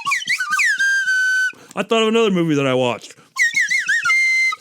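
A slide whistle sliding up and down in pitch, loud and close, with wavering swoops and glides, played between stretches of someone talking.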